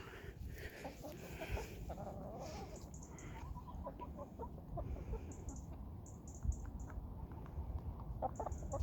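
Hens cluck in a backyard flock, with soft, close, repeated clucks and chatter over a low, busy rumble of background noise.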